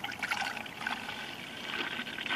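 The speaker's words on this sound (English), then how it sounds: "I'm just going to pour it into this 1/2-gallon pitcher here" An Ecto-Cooler recipe ingredient poured into a half-gallon pitcher, a steady continuous splashing trickle of liquid at close range with no talking.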